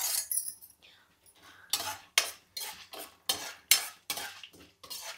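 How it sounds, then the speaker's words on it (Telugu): Chana dal frying in a little oil, stirred with a metal spoon against the pan in a run of quick, regular scraping strokes over a soft sizzle, close and clear. "ఇప్పుడైతే కనుక ఈ పచ్చెనపప్పు అయితే వేపుతున్నాను"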